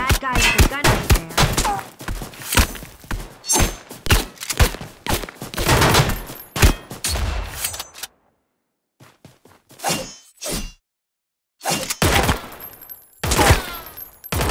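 Rapid gunfire from a Fortnite match comes in dense, clustered bursts of sharp cracks, loud and close, with a short quiet gap in the middle before more shots follow.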